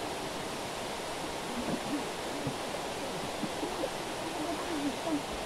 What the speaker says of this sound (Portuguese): cachoeira da Janjana